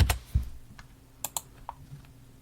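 Typing on a computer keyboard, a few quiet clicks and key taps in brief clusters, close by in an otherwise quiet room.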